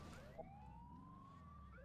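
Police siren wailing in a parkour game map, a steady rising and falling electronic tone held throughout against a low rumbling background, with a brief thump near the start.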